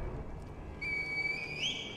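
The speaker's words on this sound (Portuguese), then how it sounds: "Chamar o herdeiro divino com o apito de junco?" A reed whistle blown in Sekiro: Shadows Die Twice gives a thin, clear tone that starts abruptly partway in, holds steady and then bends upward at the end, over a low ambient rumble.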